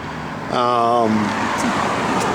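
A 1969 Plymouth Road Runner engine with an aftermarket cam rumbles steadily with a lumpy, uneven idle, a harmonic drone that swells briefly, loud and close with no talking.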